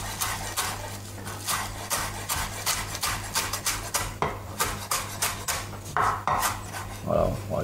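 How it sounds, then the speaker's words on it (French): A knife chops flat-leaf parsley on a board, giving rapid, steady rhythmic knocks, close and crisp, continuing throughout with a low background hum. "On va rajouter aussi un petit peu de persil plat qu'on va hacher."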